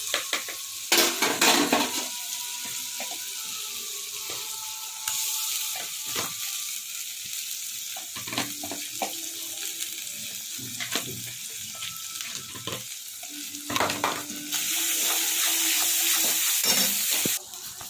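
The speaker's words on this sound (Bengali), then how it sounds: "আমাদের মশলাটা ভাজা ভাজা হয়ে গেছে" Ginger paste and spices fry and sizzle in a pan, with a steady hiss and intermittent stirring scrapes, joined by bursts of running tap water partway through.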